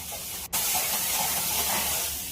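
Vegetables roast in hot oil in a wok, lightly salted, giving a steady, loud, close sizzling hiss that runs the whole time, broken only by one sharp click near the start.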